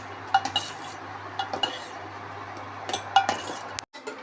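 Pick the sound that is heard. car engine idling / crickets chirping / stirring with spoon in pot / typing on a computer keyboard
stirring with spoon in pot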